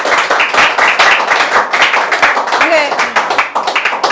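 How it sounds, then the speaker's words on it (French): An audience applauds a performer at her first performance on a debate magazine show, clapping in quick dense bursts while voices and brief vocal sounds rise over it, close and loud. "On applaudit, s'il vous plaît."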